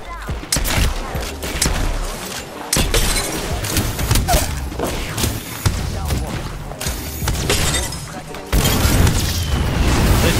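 Fuse's ultimate ability in Apex Legends, a wall of explosive blasts going off in a dense, continuous barrage of booms and bursts, loud and close, mixed with a voice talking over the chaos.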